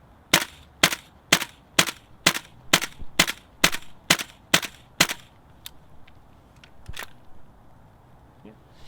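A Tokyo Marui M4 MWS airsoft gun fires BBs in a fast, even string of about a dozen sharp, close cracks, followed by a few scattered softer clicks and faint background voices.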